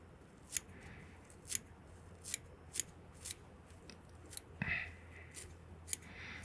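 Scissors snip fly-tying material for a sculpin streamer pattern, with about nine short, crisp cuts spaced at a steady rhythm, close and moderately loud against a quiet room.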